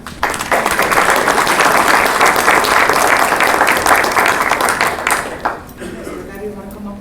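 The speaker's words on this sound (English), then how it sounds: "Please help me again to a round of applause, and thank you very much to everyone." A round of applause fills a town board meeting, steady dense clapping from the gathered room that holds loud for about five seconds before thinning and tapering off into quieter room noise.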